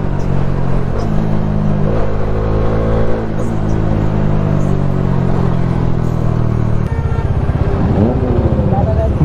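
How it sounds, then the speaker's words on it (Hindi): A vehicle exhaust revs loudly and close by in a sustained, droning roar that shifts pitch partway through, with people talking over it. "भाई क्या एग्जॉस्ट है मैन, किसका एग्जॉस्ट है, गाड़ी का है क्या"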